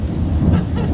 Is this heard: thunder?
yes